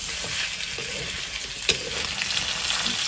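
Pork pieces frying in oil in a pan for an Assamese pork curry, a steady close hiss of sizzling with a brief stir clink, no talking.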